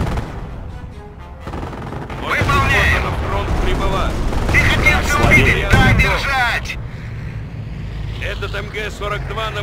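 MG-42 machine-gun bursts in the Company of Heroes WWII strategy game rattle loudly amid booming explosions and battle noise, with game voices talking over the gunfire.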